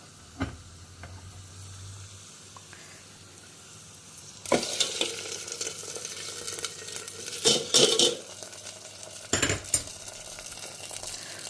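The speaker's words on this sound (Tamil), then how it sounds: "முந்திரி பருப்பு திராட்சை எல்லாத்தையுமே வறுத்துடலாம்" Cashews and raisins fry faintly in hot ghee with a low hum, then bursts of stirring as a spoon scrapes and clinks against the pan.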